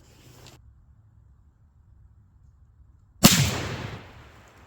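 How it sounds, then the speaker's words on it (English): Near silence, then one sharp, loud .300 Win Mag rifle crack close by, followed by a short splashing, rushing decay as the bullet hits a water-filled target. "I'm gonna go ahead and shoot it with the 300 Win Mag"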